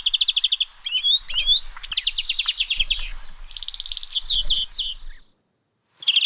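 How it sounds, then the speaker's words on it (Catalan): A European greenfinch sings a lively, close song of rapid trills, buzzy twitters and repeated chirping notes that run almost without a break before a short pause, and then the song starts again. "acabarem aquest concert d'ocells amb els verdums"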